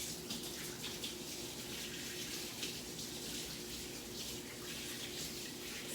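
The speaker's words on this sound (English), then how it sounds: "I'll wash my hands." Running tap water pours steadily into a sink while hands are washed under the stream, a continuous close broadband splashing hiss that holds an even level throughout with no talk.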